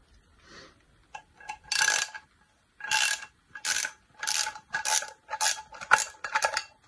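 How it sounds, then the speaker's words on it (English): A STREBITO mini ratchet from a 14-piece set clicks through a series of short ratcheting bursts, about eight quick runs of metallic clicks separated by brief pauses, close up and alone. "If you want to loosen it, change the setting."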